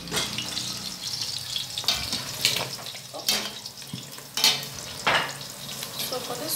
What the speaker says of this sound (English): For this one, I'm not going to be frying it too dry